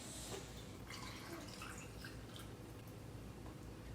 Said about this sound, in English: now we're just gonna pour our brine over the top of the beans